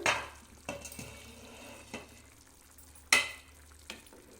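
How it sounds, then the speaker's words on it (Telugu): Kaju paneer masala gravy simmering in a pan while being stirred, a low bubbling hiss under intermittent scrapes and clinks of the spoon, with a sharper knock near the end. "మూత పెట్టేసుకొని కాస్త చిక్కబడే వరకు ఒక రెండు మూడు నిమిషాలు మరగనివ్వాలి"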